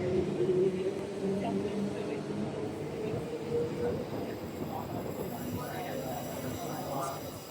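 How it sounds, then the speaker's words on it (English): A Fremantle line train departs a Perth stadium platform, its low rumble and whining motor tones rolling along steadily at moderate distance, with faint background voices around it. "There goes the Fremantle service departing"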